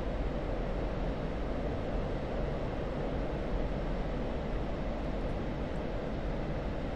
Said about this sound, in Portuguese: É o famoso pós-combustão!